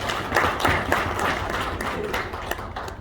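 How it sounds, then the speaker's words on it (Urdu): An audience at a party nomination gathering applauds with a steady, dense patter of many hands clapping, sustained throughout at moderate loudness. "حق صاحب کے لیے تالیاں"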